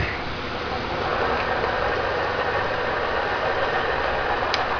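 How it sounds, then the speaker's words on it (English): A vacuum pump used to calibrate a mercury vacuum gauge starts up and settles into a steady, moderately loud mechanical drone and hum that continues unchanged throughout, with one faint click near the end. "What we'll do first is we'll start the pump up."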